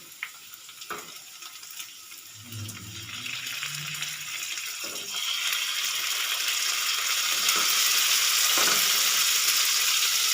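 Marinated chicken pieces for lemon chicken, added to a pan with chopped garlic, sizzle and fry with a steady, building hiss and occasional stirring knocks, close and loud.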